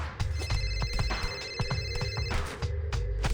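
Phone ringing in a TMNT: Mutants Unleashed video game cutscene, a repeating electronic ringtone with steady pulses over a busy background of clatter and low rumble, no speech.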